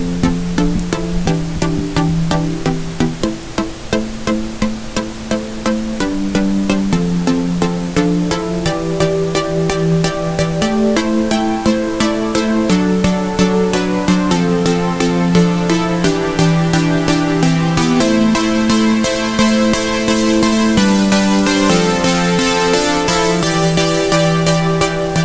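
Intro synthesizer lead plays a bright, sustained melodic line over steady pulsing chords, loud and continuous, with the tone opening up and brightening as the filter sweeps toward the end.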